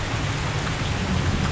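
Steady rain falls in a continuous, even hiss with a low rumbling undertone, filling the whole stretch without a break; no voices are heard.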